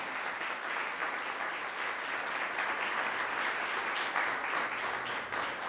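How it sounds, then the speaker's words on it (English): Steady, dense applause from an award ceremony audience honoring the school principal, Dr. Alina Diaz Blanco, sustained for several seconds at moderate distance with no talk over it. "Let's give her a round of applause"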